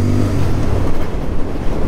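A Royal Enfield Bear 650 motorcycle idles with a smooth, low, steady engine hum. A slight rise in revs comes through near the start, and the bike sounds close by.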